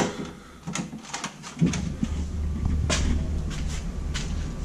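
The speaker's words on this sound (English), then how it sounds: "But the door is locked." A locked door is tried during a backpacking stay in Thailand, giving a few close knocks and rattles as the handle and frame are worked, then a dull steady background.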